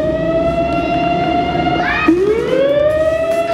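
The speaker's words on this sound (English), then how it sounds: "You may have heard the sirens go off in Deer Park every Saturday around 12 noon." An outdoor warning siren in Deer Park sounds during its weekly Saturday noon test, a loud steady wail with a sharp pitch drop and slow rise near the end.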